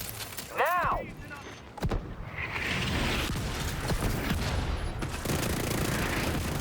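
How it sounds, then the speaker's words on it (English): Mortar strike and gunfire in a video game: a short whistling descent, then a sustained rumbling barrage of blasts and rattling shots, with a voice talking over part of it. "Mortar on my mark. Now."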